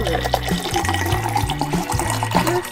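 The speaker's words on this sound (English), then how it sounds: "we're going to add a little bit of water" Water poured into a homemade kitchen skincare mixture, a brief close trickle and splash lasting a couple of seconds, heard alone without talk.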